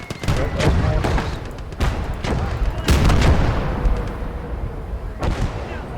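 Mortar and artillery blasts boom repeatedly in a Kelly's Heroes video game battle, loud thumps landing every second or so over a dense rumble of gunfire, with voices calling out beneath.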